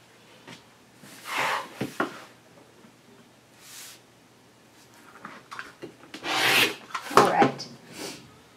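Scissors or a rotary cutter slicing fabric strips along a ruler, soft rasping cuts in a few brief bursts separated by quiet pauses, faint and close.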